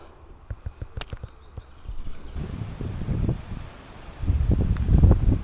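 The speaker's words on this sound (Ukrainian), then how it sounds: "У нас ураган такий почався. Капець просто. Аж дерева хрустять." Storm wind gusts through trees beside a lake, building from soft rustling with scattered knocks into stronger roaring gusts and heavy wind noise on the microphone.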